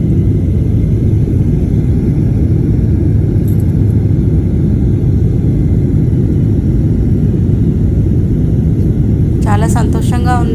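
Airplane cabin during flight, a loud, constant, broadband engine roar and rushing air drone filling the whole stretch, with a brief faint voice near the end.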